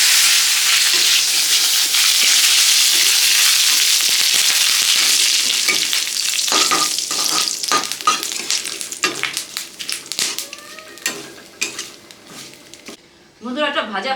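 Food frying in a pan for a Chaitra Sankranti home meal, a loud steady sizzle at first that thins into crackling, spatula knocks and clatter, with a voice talking near the end.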